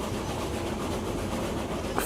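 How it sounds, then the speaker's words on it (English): A lumber train running in the video game Railroads Online, giving a steady, continuous rumble of rolling rail cars with a faint clickety-clack throughout and no talking. "So this is my lumber train."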